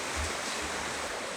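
Heavy rain falling in Ballari during the year's first big downpour, a steady, dense wash of noise that fills the whole clip evenly at moderate level, with no talking.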